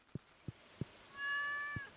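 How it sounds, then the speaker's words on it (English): A cartoon cat in the farming video game Stardew Valley gives a short, clear meow, standing alone over soft game tones and light ticking sounds. "Kitty."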